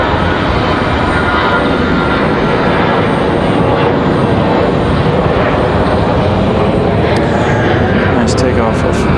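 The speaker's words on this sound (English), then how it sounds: "Takeoff for American to Charlotte" An American Airlines airliner takes off from Raleigh-Durham International Airport, producing a loud, steady engine roar that holds for the whole stretch while a person talks over it.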